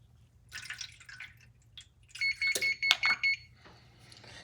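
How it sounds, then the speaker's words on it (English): Kitchen oven preheating for a brisket: a few soft clatters and rustles, then a quick run of about six sharp, evenly spaced electronic beeps close by, with no talking. "That noise is my oven preheating."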